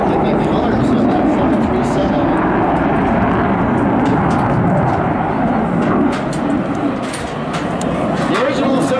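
WestJet Boeing 737 airliner flying past at an airshow, a steady loud jet engine roar filling the whole stretch, with a voice talking over it.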